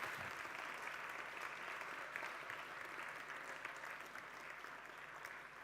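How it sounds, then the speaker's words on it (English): Audience at a Cambridge talk event giving a closing round of applause for the speaker, a dense even wash of clapping held steadily throughout at moderate, slightly distant level. "Why don't we give Pete a final round of applause?"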